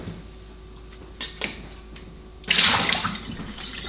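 Water poured into a Kilner fermentation jar, heard as a few soft knocks and then a sudden splashing gush that keeps running, close and moderately loud.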